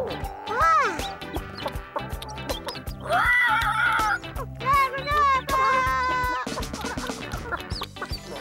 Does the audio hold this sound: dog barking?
no